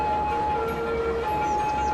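A police car siren in Cities: Skylines wails with a steady, sustained tone that shifts pitch partway through, loud and continuous over a low background rumble.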